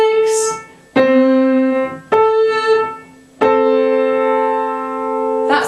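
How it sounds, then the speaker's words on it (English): A major sixth interval is played on a pitched instrument as clear sustained tones. Several separate notes start sharply, each ringing with rich harmonics, and the interval sounds alone without any talking. "that's the sound of a major sixth."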